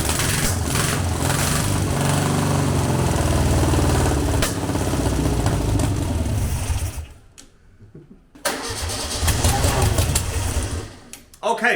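An abandoned VW Beetle engine running on a test, a loud, fast, rattling buzz that dips out briefly around the middle and then picks back up before ending abruptly.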